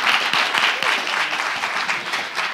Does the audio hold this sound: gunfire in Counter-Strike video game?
no